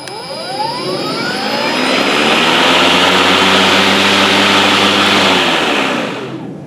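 Kobalt 20-inch electric lawn mower whirring up to a loud, steady high-pitched spin up close, then winding down quickly as the motor stops at the end.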